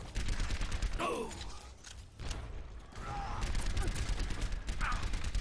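Rapid gunfire bursts crackle during a competitive Overwatch esports playoff match, dense clustered volleys that stop and start, with a caster's voice faintly under the shooting.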